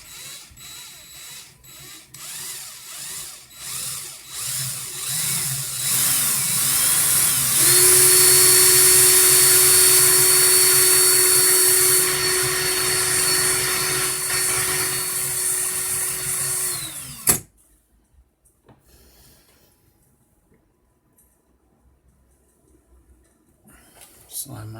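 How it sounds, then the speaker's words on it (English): A cordless drill spins steadily to twist vape coil wire, a loud sustained high whine that rises in pitch, holds for several seconds, then cuts off abruptly, leaving near quiet with faint handling sounds. "Make sure my drill's in the reverse of what I had it when I clapped them."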